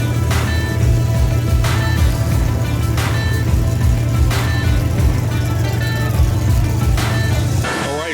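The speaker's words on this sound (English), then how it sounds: "the Ford flies on by" A Ford drag racing car, a Super Cobra Jet, roars past at speed, its loud, steady engine drone holding close for several seconds with a few sharp clicks along the way.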